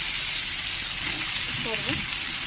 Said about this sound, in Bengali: এবার আমি দিয়ে দেবো এই তেলে কচুর শাক দিলাম